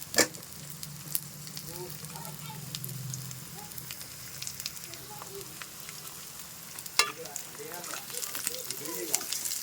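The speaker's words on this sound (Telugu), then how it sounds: "ఇప్పుడు మనం కట్ చేసుకున్న బోడ కాకరకాయలను అయితే నేనైతే వేసేసాను." Chopped spiny gourd frying with softened onions in a pan, a continuous close sizzle with occasional scraping and tapping of a utensil stirring.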